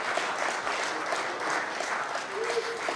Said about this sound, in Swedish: Kan vi inte ge Jesus en applåd?